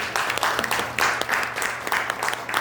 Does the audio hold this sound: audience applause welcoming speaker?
yes